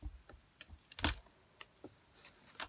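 Diamond painting drills are pressed into place with an applicator pen, making small, close, irregular tapping clicks on the canvas, sparse and quiet with an occasional louder tap.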